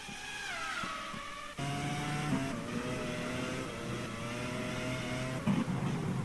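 Formula One cars racing at Britain in the GPRO 2002 game, engine tones whining and shifting pitch as cars pass, a steady mid-level drone with rising and falling notes.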